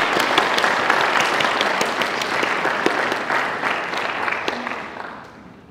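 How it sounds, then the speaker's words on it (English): A crowd applauds at a high school military signing ceremony, dense steady clapping filling the room, then tapering off near the end. "So a round of applause to everybody"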